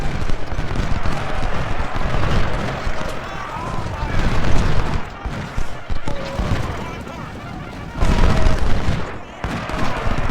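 Massed musket volleys and artillery booms crash continuously through a First Bull Run Civil War video game battle, dense and loud throughout with swells of heavier firing, while a voice talks underneath.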